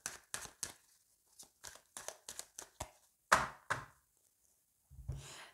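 Deck of oracle cards being cut and handled, a quick series of crisp taps and slaps of card stock, about a dozen short knocks close up in a quiet room.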